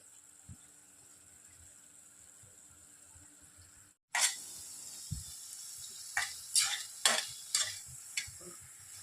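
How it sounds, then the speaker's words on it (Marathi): Cooked vegetables being mashed in a pan for pav bhaji in a home kitchen: after a quiet hum, loud scraping and pounding strikes with sizzling start up and repeat in an uneven rhythm, close by. "जरा याला स्मॅश करून घेते"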